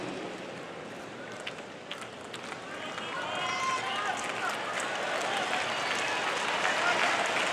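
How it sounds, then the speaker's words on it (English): Tennis crowd at the 2017 US Open applauding and cheering for Roger Federer against Mikhail Youzhny, a dense roar of clapping and voices that swells louder toward the end. "Crowd gets behind Federer."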